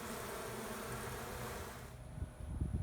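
Bees working at their hive make a dense, close buzzing drone that carries steadily, then thins out into softer, scattered hum and faint rustles.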